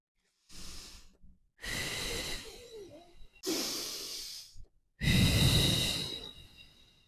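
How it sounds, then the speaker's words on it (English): Slow, deep breaths close to the mic: four long, loud inhales and exhales with brief silent gaps, heavy and rhythmic, as a woman breathes through a labour contraction. "I am talking about controlled, deep breathing."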